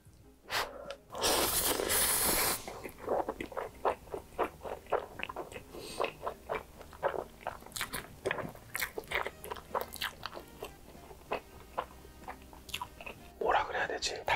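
White black bean noodles and green onion kimchi being eaten up close, with repeated wet slurps, bites and chewing crunches in a steady rhythm, plus a loud burst of noodle slurping near the start and brief breaths between mouthfuls.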